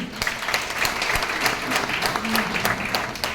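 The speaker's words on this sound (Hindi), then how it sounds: "सेमिनार मिला दिनेश चौधरी सर का मिला, चाहूंगी उनके लिए जोरदार तालियां।" A room full of people at a seminar clapping loudly and steadily, with dense overlapping claps and a voice faintly underneath.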